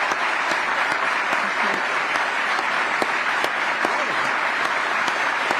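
A large audience applauds steadily after Melania Trump's speech, dense continuous clapping filling the space with a few louder sharp claps standing out, no talk over it.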